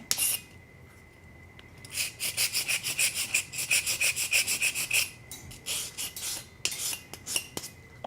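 Sanding stick rubbing across an enamel trivet in rapid back-and-forth strokes, a close, dry rasping scrape in bursts with short pauses between runs.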